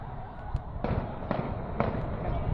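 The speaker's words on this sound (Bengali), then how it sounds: "নন স্টপ গুলি করতেছে তো" Nonstop gunfire rings out outdoors at night: a series of sharp, cracking bangs, about five distinct shots at uneven intervals. They sound at mid distance over a constant background rumble.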